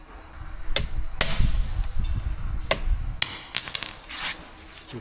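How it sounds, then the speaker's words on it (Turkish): Hammer taps on an impact screwdriver loosening a screw on a Suzuki DF 60 outboard motor aboard a boat, a few sharp metallic clinks spaced about a second apart, close and clear over low background noise. "Darbeli tornavida darbeyle sıkıyor"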